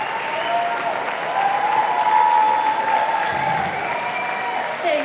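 A large audience at a county State of the County event applauds steadily for several seconds, welcoming a speaker to the stage. The clapping is full and sustained, with a brief low thump near the end.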